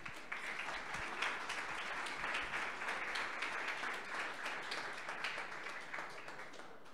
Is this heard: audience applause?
yes